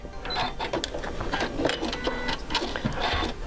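Sewing machine stitching bias binding onto a quilt, a steady rapid mechanical clatter running continuously at close range with no voices.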